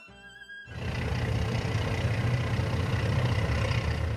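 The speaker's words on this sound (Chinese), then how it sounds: "清晨6点，突突突的马达声叫醒了整个城市。" A water bus motor on Hangzhou's Grand Canal starts up in the early morning after a quiet tonal opening, then settles into a steady, close, low chugging drone.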